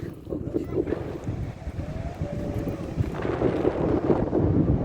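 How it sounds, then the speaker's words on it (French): Blustery wind buffets the microphone near a beach in a constant low rumble, with a faint voice briefly audible under the roar. "Il y a du vent, je vais m'arrêter."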